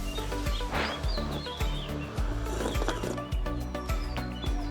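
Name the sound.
birds chirping in the hills, occasional peacock calls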